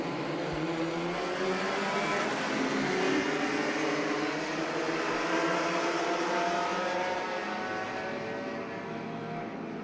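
Formula First single-seater race cars at a New Zealand championship race start, a dense, continuous roar of engines rising in pitch together as the pack accelerates away, steady and fairly distant with no voices.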